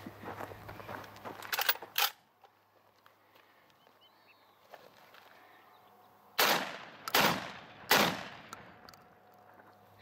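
Three sharp, loud shotgun blasts from a UTAS XTR-12 shotgun on a firing range, spaced about a second apart, with faint earlier bangs and light handling noise before them.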